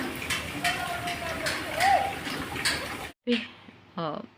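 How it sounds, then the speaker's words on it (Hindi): Two young siblings water trees and plants at home, making a steady rush of splashing water for several seconds before it stops, with a voice talking afterward. "ये देखिए पेड़ पौधों में पानी दे रहे हैं दोनों बहन भाई।"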